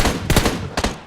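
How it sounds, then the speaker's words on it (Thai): Two sharp, loud gunfire bursts ring out in the mobile battle royale game PUBG Mobile, spaced about half a second apart with no voices. "มีคนยิงมา"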